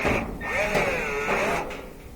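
A 5/16 nut driver spins screws out of the panel of a roughly 24-year-old gas dryer, giving a close, steady whirring buzz that sweeps up and down in pitch for about two seconds.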